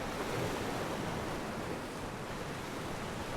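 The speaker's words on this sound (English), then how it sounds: "A nice sound of sea." Sea waves heard from a cruise ship balcony on a calm day, a steady soft wash of surf and breeze with no distinct breaking crashes.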